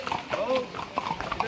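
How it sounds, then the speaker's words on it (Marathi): Horses clip-clop on the ground at the Matheran gate, where horse rides are offered. The hoofbeats are quick and uneven and close by, with people talking over them. "पाठीमागे बघू शकता घोड्यांवर सवारी"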